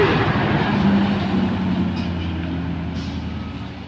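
A Fuso truck carrying a heavy load revs its engine, a loud low rumble that slowly fades a little as it pulls away.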